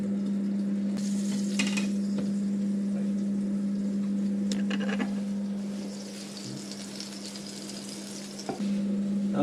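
Pancake batter from a pancake mix cooks in a frying pan with a steady, close sizzle over a constant hum, and a few faint clinks and scrapes come through now and then.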